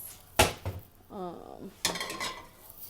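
A cooking pan for veggies clanks against a stovetop and other cookware, with a few sharp metallic knocks and scrapes spread across the moment and a brief voiced sound in the middle.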